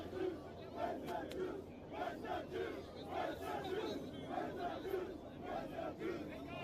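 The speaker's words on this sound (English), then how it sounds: "crowds of Hamas supporters were chanting this" A large crowd of Hamas supporters at the Sydney Opera House chants in a steady rhythmic cadence, the repeated shouted phrases somewhat distant and muffled, rising and falling together in waves.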